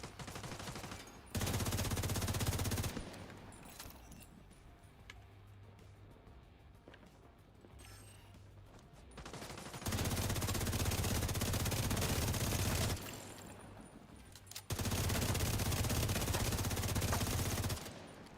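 Loud bursts of rapid automatic gunfire from a shooter video game, three sustained volleys of several seconds each separated by quieter stretches of distant shots and ambient game noise.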